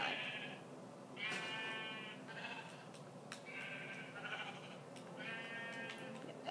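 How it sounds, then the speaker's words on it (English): Repeated sheep bleats in a video game, short evenly spaced calls, clear and fairly close over a faint steady background. "I love my colored sheep"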